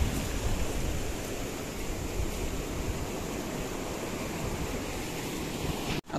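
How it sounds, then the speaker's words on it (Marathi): Strong sea waves of an incoming tide roll in at the shore where people hunt for crabs, a loud, continuous broadband roar with wind buffeting the microphone, cutting off abruptly at the very end. "भरती जाम आली."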